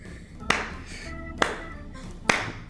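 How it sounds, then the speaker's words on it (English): Three slow, deliberate hand claps, spaced almost a second apart, each crisp and close against a quiet room. "like a slow clap"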